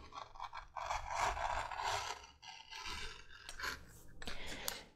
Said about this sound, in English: And I will be gouging quite a ways through these.